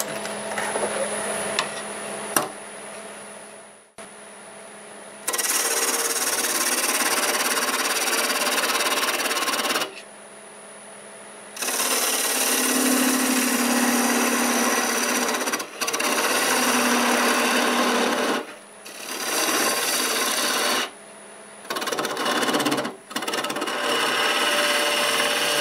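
A red cedar blank is flattened on a wood turning lathe, the tool scraping in a series of loud, rough bursts of several seconds each, separated by short pauses as the cut stops and restarts.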